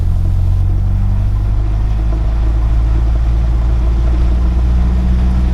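A light aircraft engine runs steadily at 1800 RPM during a pre-flight run-up, a loud, even droning rumble heard close up from the cockpit with no talk.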